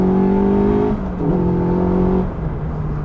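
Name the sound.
Caterham Superlight R300 car, 2-litre Ford Duratec engine revving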